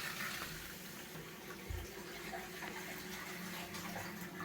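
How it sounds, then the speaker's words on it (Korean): Water runs steadily from a kitchen sink tap right after frozen pipes have been thawed, a continuous hiss and splash with a brief thump partway through and no talking. "싱크대 쪽도 물이 나오고요."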